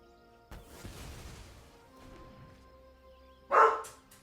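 A dog barks once, loud and sharp, after a stretch of quiet indoor rustling and low room noise.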